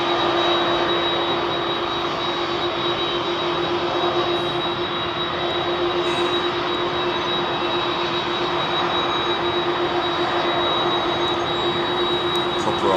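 Pratt & Whitney PW4000 jet engines on a widebody taking off at Heathrow give a loud, close, continuous roar with a steady high whine and a lower sustained tone running throughout.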